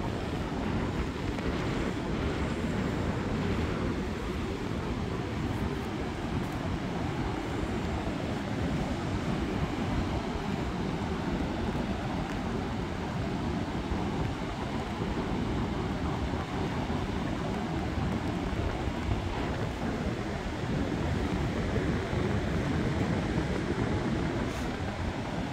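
Continuous roar of surf at a beach by a Danish dyke and nature reserve, heavy broadband rumble mixed with wind buffeting the microphone, steady and unbroken throughout.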